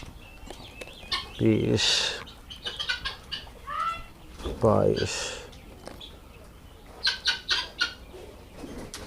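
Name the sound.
Japanese quail birds on a farm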